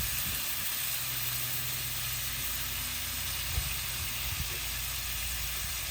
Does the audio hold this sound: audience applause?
no